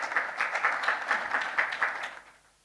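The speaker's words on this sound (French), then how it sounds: "avec vos applaudissements." Applause from a closing-ceremony audience honoring a professor, rhythmic and moderately loud, with clapping in regular pulses before fading out quickly at the end.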